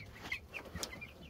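Meat chickens and ducks share a pen on a homestead, with faint, brief clucks and chirps from the birds over low background noise.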